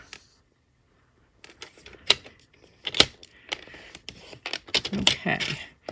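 A paper trimmer cutting and scoring cardstock for a handmade slide lock card gives a few sharp clicks and short sliding, scraping strokes, close and moderately quiet after a brief silence.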